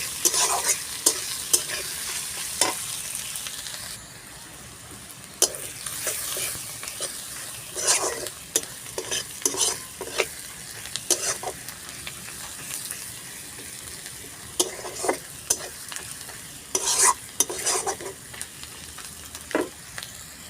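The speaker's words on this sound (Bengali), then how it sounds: "পেঁয়াজটা একটু লাল লাল করে ভেজে নিব" Onions frying and being stirred for home-style biryani: a constant close sizzle broken by frequent sharp scrapes and clatters of a spoon against the pot, coming in irregular bursts.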